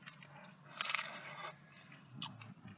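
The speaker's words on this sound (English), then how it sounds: "So now I'm going back to just chewing on them and then spitting out the seeds" Someone chews berries picked from wild bushes in Novato, California, and spits out the seeds: quiet close-up mouth sounds with two sharper crunchy bursts over soft outdoor background.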